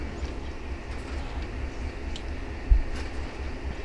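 A Crossrail Class 66 freight locomotive rumbles past in Train Simulator 2020, a steady low rolling drone with faint wheel clatter and one brief thump near the end.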